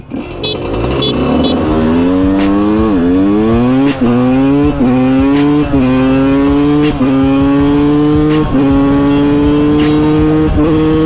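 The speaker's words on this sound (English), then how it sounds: "so we're gonna do a drag race now. 2-stroke 125 versus 4-stroke 125." A 2-stroke Gasgas 125 and a 4-stroke Suzuki 125 motorcycle accelerate flat out in a night drag race, loud and close, their engine notes climbing through repeated gear changes in a continuous high-revving whine.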